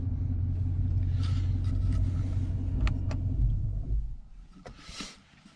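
A 2012 Dodge Challenger SRT8 with a six-speed manual rumbles steadily with a deep, loud engine note for about four seconds, then quiets to a softer idle near the end.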